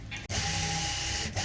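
An electric sewing machine stitches a half-inch seam on a palazzo, giving a close, steady motor whir that runs almost without a break, with one short pause near the start.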